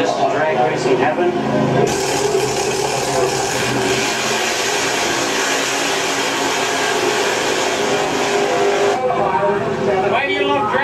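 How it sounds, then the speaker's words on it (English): Drag racing cars roar at the Rocky Mountain Nationals in Edmonton, Alberta, a loud sustained engine scream that fills most of the moment, with voices around it. "This is drag racing heaven."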